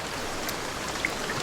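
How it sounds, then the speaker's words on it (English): Light rain falling in the Immortal Realm video game: a soft, steady hiss of drops, fairly even throughout, with no talking over it. "that's just light rain, right?"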